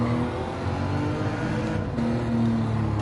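A harsh, grating car engine revs in the racing game Gran Turismo 7, an old worn car droning loudly and continuously with a rasping tone and slight pitch rises, without talk.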